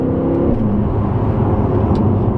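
A 2017 BMW M6 sports car's engine and exhaust drone steadily from inside the moving car, a loud, continuous low rumble with no revving peaks.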